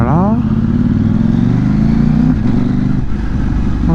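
Motorcycle on the road with the engine note stepping down through gears as the rider downshifts, a loud, steady close engine drone with wind noise throughout.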